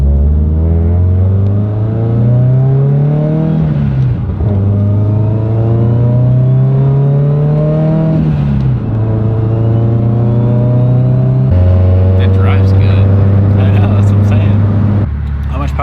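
A 1,000 whp Subaru STI running 50+ psi of boost accelerates hard through repeated rising engine pulls with gear changes, loud and close from inside the car, with people talking over it.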